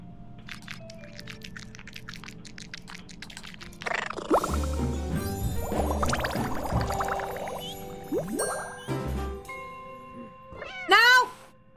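A cartoon kitten in the video game Little Kitty Big City gives a short, bright meow near the end, after game music and scattered sound effects.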